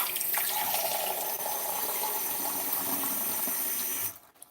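Cold water runs steadily from a kitchen faucet in a close, loud, even hiss and splash. It stops abruptly near the end, leaving a few faint drips and clicks.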